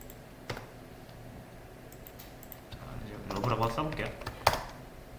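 Keys clatter on a computer keyboard, sparse at first, then a denser flurry of taps ending in one sharp strike, while a voice speaks faintly underneath.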